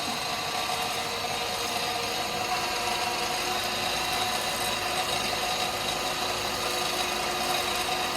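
A wood lathe spins a click-pen blank at roughly 3,000 RPM, giving a constant, even mechanical whir with broad hiss and no breaks for the whole stretch.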